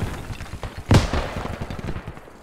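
In the Squad shooter game, a rocket explosion lands as a single heavy, loud blast amid a steady rattle of nearby rifle fire that keeps going afterward.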